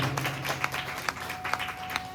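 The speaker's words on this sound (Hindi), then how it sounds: "मैं आपके लिए ताली बजा रहा हूँ" A man leading a Hindu devotional religious gathering claps his hands in a loose run of sharp, moderately loud claps, spaced unevenly over a low steady background.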